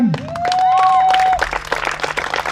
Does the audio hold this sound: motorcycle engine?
no